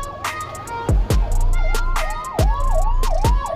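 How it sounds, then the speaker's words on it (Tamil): An oncoming ambulance siren on an Indian highway, loud and close, wailing in repeated rising-and-falling sweeps with sharp low thumps between them, over road and engine noise. "எதிர்க்க ஒரு ஆம்புலன்ஸ் வருது"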